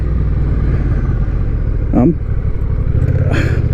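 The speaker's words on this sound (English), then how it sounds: "I did not expect this engine DCT to be that good, but it is. Man, I like the way this bike sounds." A Honda Rebel with a DCT gearbox rumbles steadily at low speed, its low engine drone continuous under wind and a man's speech.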